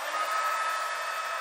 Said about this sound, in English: excuse the noise while I get my heat gun warmed up here